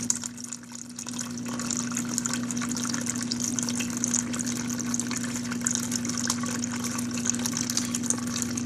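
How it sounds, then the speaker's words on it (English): A small pump pushes mash water through a digital flow meter, making a steady motor hum under a constant, splashy flow of liquid that runs evenly throughout without a break. "this pump produces about 1 gallon a minute flow rate"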